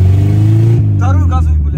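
A car pulls away and accelerates, its engine loud and close with a heavy low drone that climbs in pitch, and brief voices mixed in near the end.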